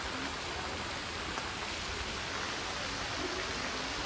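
Sunshower rain in Mysore falls as a dense, steady hiss of drops, an even wash of rain with no voices.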